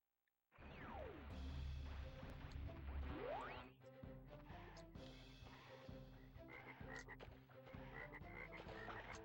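Frog enemies croak in the video game Crash Bandicoot Warped, sounding over loud, busy game music and sliding effects, with repeated short croaks running through the whole stretch.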